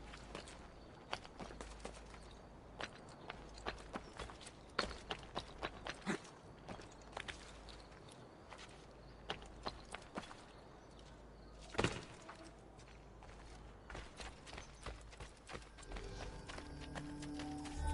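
Horse hooves clip-clop through the Renaissance town streets of Assassin's Creed Ezio Collection, a steady run of light hoofbeats over busy ambient game noise, with no talk.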